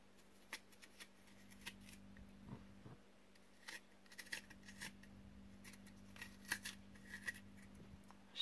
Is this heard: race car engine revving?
no